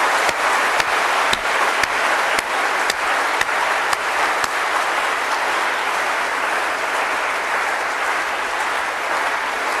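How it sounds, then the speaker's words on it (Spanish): Loud, sustained applause from a church audience welcoming a speaker onto the stage, dense clapping with sharp individual claps standing out, steady throughout with no talking. "Lo recibimos con un fuerte aplauso"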